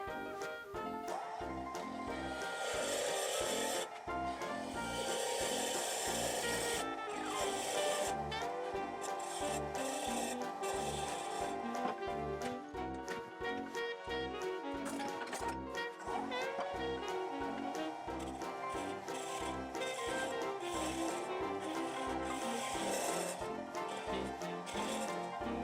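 Steady rasping and rubbing of a turning tool against a wooden bottle stopper spinning on a lathe, repeating in rhythmic scraping strokes with a mechanical hum underneath.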